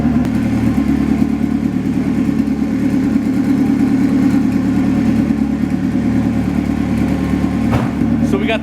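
A turbo drag car's engine runs steadily and loudly close by, a deep throbbing idle with a rough, lumpy pulse, holding constant throughout.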